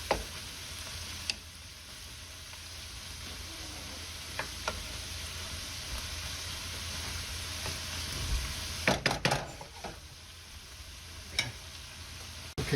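Garlic and onions frying in a pan for Filipino fried rice, a soft steady sizzle with occasional clicks and stirring scrapes, louder scraping bursts near the end, no talk.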